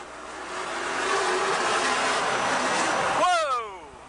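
A loud offshore racing powerboat engine roar sweeps past, rising and falling in pitch as it nears and recedes, with a sharp whining tone at the end.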